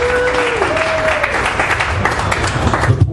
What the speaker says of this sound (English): Clap for knowledge.